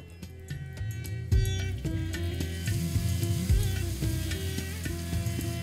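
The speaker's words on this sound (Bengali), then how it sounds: "আর সেটাকে একটু লাল লাল হওয়া অবধি ভেজে নেব" Chopped onions fry in oil with cinnamon and cardamom for a prawn malai curry, a steady crackling sizzle that grows fuller after a few seconds, with soft tonal music underneath.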